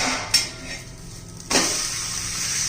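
Metal spatula scrapes and clanks against a pan as a pizza-style snack gets flipped, two sharp contacts followed by a renewed sizzle, close-up with no talking.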